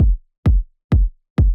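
Four punchy electronic break kick drum hits with effects, evenly spaced and loud, each a deep thump with a bright click and short decaying tail, alone, in a progressive house production.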